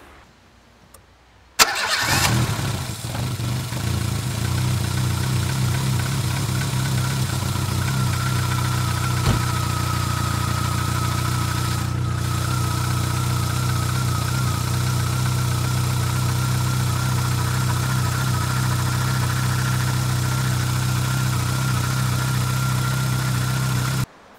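A car engine with freshly adjusted rocker arms and a reassembled cylinder head cranks briefly, catches, then settles into a steady, close, rumbling idle that runs on unchanged, with a faint rattle and no talk.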